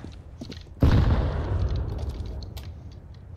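A grenade blows up in CS:GO with one sudden loud close boom whose rumble fades over the next couple of seconds, with faint game noise around it.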